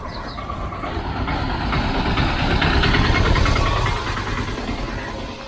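A tuk-tuk drives past on a street in Alleppey, its small engine putter rising as it nears and fading away over a few seconds amid general road noise.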